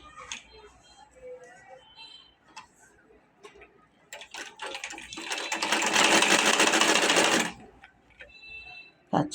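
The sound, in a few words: sewing machine stitching shirt shoulders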